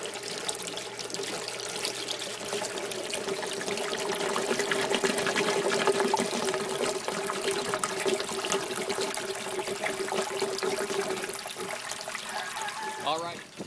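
Water runs through an aquaponics bell siphon covered by a clear glass jar, a steady close trickling and gurgling flow that builds slightly and holds for the whole stretch.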